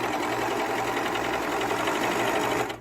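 A sewing machine stitches a small seam allowance, a steady fast whirring hum running continuously and close before easing off at the very end.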